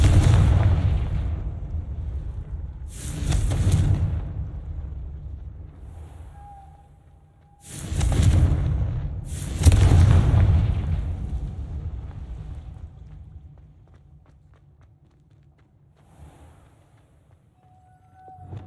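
Several spell explosions from the Confringo curse in the Hogwarts Legacy game, heavy booming bursts with long rumbling tails, one near 3 seconds and a close pair around 8 and 10 seconds, each fading slowly to quiet.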